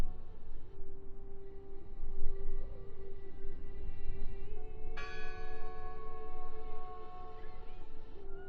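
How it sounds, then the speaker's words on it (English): In the video game Draugen, a church-like bell rings with a sustained tone, then strikes again more loudly about halfway through, its bright overtones lingering over a low ambient rumble. "Listen! The bell!"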